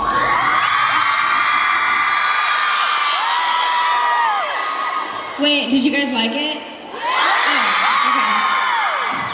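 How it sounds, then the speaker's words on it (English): A large crowd of fans screams and cheers loudly and continuously at a mall tour event, with a brief dip while a person speaks before the shrieking swells again. "Are you guys used to these screams yet?"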